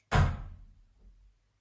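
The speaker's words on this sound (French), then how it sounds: "désolé pour le bruit de la porte, elle a claqué." A door slams shut with a single loud, sharp bang that decays into a low rumbling tail, heard alone with no talk.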